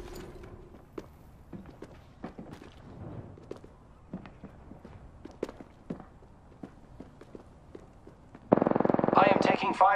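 Apex Legends gameplay as Bloodhound: steady footsteps and light clatter lead into a loud, rapid burst of automatic gunfire near the end.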